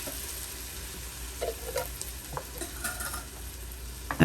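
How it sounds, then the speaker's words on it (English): Canned tomatoes hit a hot pan and set off a steady, hissing sizzle with light crackling throughout, plus a few clinks of a utensil against the pan near the end. "That sizzle when you first pour the can in."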